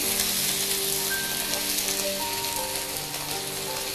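Tomato pieces sautéing in a pan with chili powder and turmeric, a steady, even sizzle with a soft crackling hiss running continuously at close range, no talk over it.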